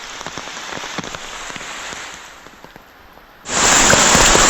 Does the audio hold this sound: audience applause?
no